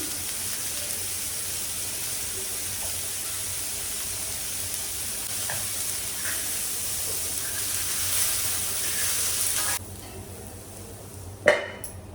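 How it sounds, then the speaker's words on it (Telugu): Chopped onion and carrot frying in a pan give off a steady broad hiss and sizzle, with a few faint clinks of a utensil and a sudden drop in the hiss near the end. "ఉల్లిపాయ క్యారెట్ వేగిపోయిందండి"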